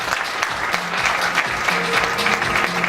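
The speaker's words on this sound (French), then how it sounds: "je vais vous demander de les applaudir au fur et à mesure que je les appelle" A room full of people at a business ceremony applauding steadily as companies are announced, a dense patter of clapping that keeps going throughout.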